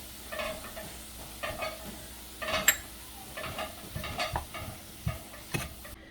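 Shrimp bisque base seasoned with black pepper, Old Bay and cayenne cooks down in a pot over medium heat, with a soft steady sizzle and occasional close scrapes and taps from stirring.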